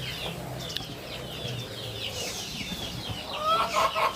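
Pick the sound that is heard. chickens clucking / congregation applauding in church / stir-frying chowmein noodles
chickens clucking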